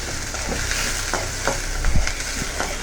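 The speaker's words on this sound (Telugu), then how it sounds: "దీంట్లో మినపప్పు, ఇది కొద్దిగా మంచిగా ఫ్రై కావాలి" Urad dal frying in a pan with green chillies and curry leaves, a continuous close sizzle broken by scraping and tapping as a spoon stirs, including one louder knock.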